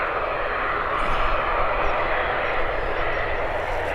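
Aer Lingus aircraft taxiing at Birmingham airport, a loud, steady engine roar and whine at moderate distance, continuous for a few seconds.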